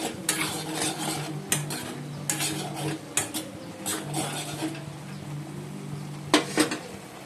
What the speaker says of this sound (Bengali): বন্ধুরা, ম্যাগি করছি।